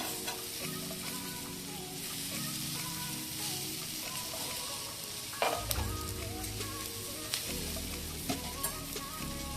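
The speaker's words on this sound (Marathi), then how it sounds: "आता ना मंद गॅसवर दुसऱ्या बाजूने शिजवून घ्यायचं थोडं वरून तेल सोडूया त्याला" Fish fries in oil over a low gas flame, giving a continuous crackling sizzle. Sharper pops and a few scrapes come when the pieces are moved or turned partway through.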